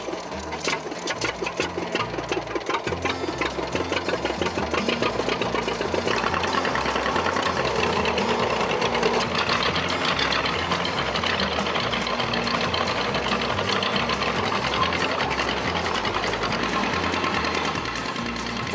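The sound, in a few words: tractor engines starting and running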